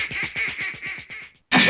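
Rapid series of about six cartoonish duck quacks from the You Don't Know Jack video game, loud and evenly paced, followed by a short pause and a burst of other noise.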